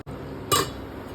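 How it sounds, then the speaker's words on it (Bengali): A lid goes onto a cooking pot of coriander chicken, making one short, bright metallic clink up close against a quiet kitchen background. "ঢাকনাটা ঢাকনাটা দিয়ে ঢেকে দাও।"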